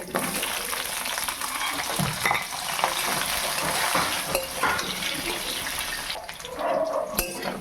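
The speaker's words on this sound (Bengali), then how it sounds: "এবার এঁচোড় সিদ্ধ করে রেখেছিলাম, ভেজে নেব।" Boiled jackfruit frying in a pan, a continuous close sizzle with occasional spatula stirs and scrapes running throughout, no talk.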